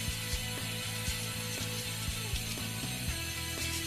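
Brush scrubbing a dental retainer, quick rhythmic back-and-forth bristle strokes, close and fairly quiet, with a steady repeating scratchy pattern.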